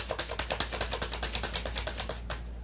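Rapid, rhythmic flicking and riffling of cards being shuffled close by, a steady patter of crisp taps that stops briefly near the end.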